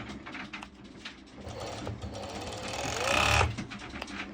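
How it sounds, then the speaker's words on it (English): A serger sewing machine stitching fabric and applying elastic whirs steadily at close range, its motor rising to a louder burst near the end before easing off. "I'm serging and applying elastic."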